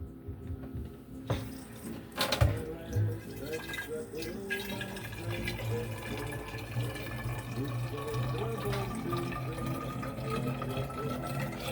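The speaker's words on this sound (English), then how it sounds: "I'm gonna fill this up with filtered water" Cold filtered water pours and trickles into a bottle, a steady gurgling fill after a few clunks of handling at the start.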